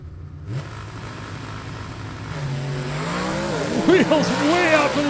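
Drag race cars, a Chevy II and a Camaro, launch at a stick shift shootout, engines rising in loud revving sweeps and gear changes, with an announcer talking over the roar.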